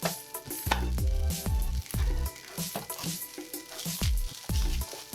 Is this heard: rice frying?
yes